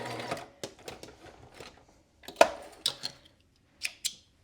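A sewing machine stitches clear elastic onto a knit top in several short, quiet bursts with pauses between them, closing on a few sharp clicks.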